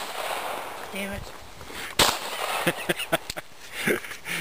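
Pistol shots ring out at an IDPA shooting match, a string of sharp cracks in quick irregular succession, near and loud, following quieter background chatter.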